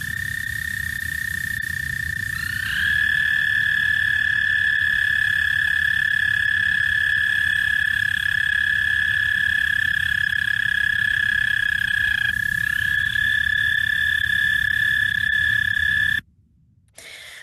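An American toad gives a long, steady, high musical trill that holds for many seconds. A second trill overlaps partway through, and the calls stand out loud and clear over a low background rumble.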